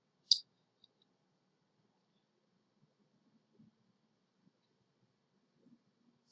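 Single sharp computer mouse click near the start, then a few faint clicks spaced across a quiet stretch while someone navigates a software menu.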